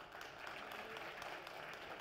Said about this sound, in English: can we have a huge round of applause for all the wonderful audience who are sitting out here?